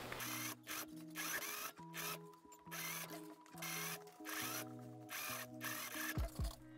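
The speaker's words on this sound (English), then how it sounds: "So let's sew the neckline." Sewing machine stitching the neckline of a dress, running in a series of short bursts of rhythmic mechanical whirring separated by brief pauses, close and steady with no talking.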